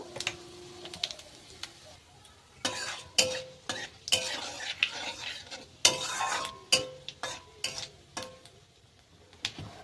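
Panch phoron and cumin seeds frying in a pan for a Bengali spinach stalk dish, giving a run of sharp crackles and spoon scrapes that come in short bursts over a soft, steady sizzle.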